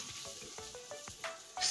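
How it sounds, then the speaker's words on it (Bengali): Onion and garlic fry in a pan with a faint sizzle, broken by a string of light scraping stir strokes that grow a little louder toward the end, with no voices. "পেঁয়াজটা আর রসুনটা একদম লাল করে ভেজে নেব।"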